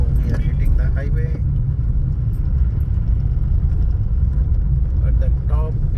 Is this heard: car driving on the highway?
yes